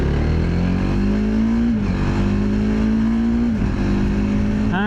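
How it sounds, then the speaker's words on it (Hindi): The 300cc single-cylinder liquid-cooled engine of a TVS Apache RTX 300 motorcycle pulls hard as the throttle is opened, its loud, steady drone rising in pitch through a couple of gear changes, close up. "वैक द थ्रॉटल।"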